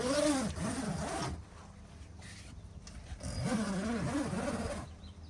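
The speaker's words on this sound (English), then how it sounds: "you just zip it down all the sections" A zipper on the fabric insulation divider between cab and living space of a Mercedes Sprinter adventure van is drawn down in two long, close strokes separated by a quiet pause.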